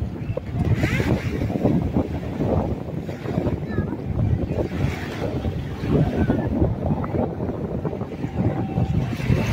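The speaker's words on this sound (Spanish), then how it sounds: "andan bastante lanchas así como esta" Motorboats run on the sea off Costa del Sol beach in El Salvador, with a steady engine drone mixed with surf and wind noise on the microphone while voices talk nearby.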